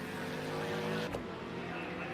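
Vintage touring race cars, including a Mercedes, in a virtual race at Lydden Hill GP. A steady engine drone holds on, with one brief whoosh midway, under commentary.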